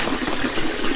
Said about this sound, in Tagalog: Ito yung malamig na tubig.